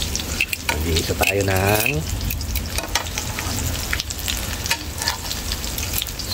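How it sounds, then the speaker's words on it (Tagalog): Chicken breast fries in a pan with a steady, dense sizzle that runs throughout, loud and close, while someone speaks briefly over it near the start. "Luto ng ating pinritong chicken breast."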